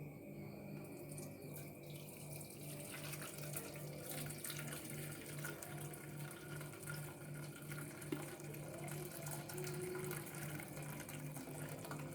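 Cooking water poured off boiled Papuan red fruit (buah merah), a steady running-water flow close by, continuous and fairly even throughout with no talking.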